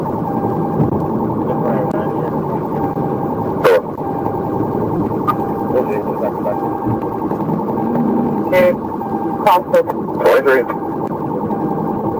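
A police car siren wails faintly in the background under steady road and engine noise on a highway traffic stop, with a few sharp clicks and bursts scattered throughout.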